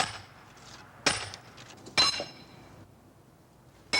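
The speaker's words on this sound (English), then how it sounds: "Wood being cut and split and wood piles built." Firewood is split outdoors in New England in autumn: three sharp, separate strikes of a splitting tool ring out about a second apart, each followed by a short clatter, with quiet between blows and no talking.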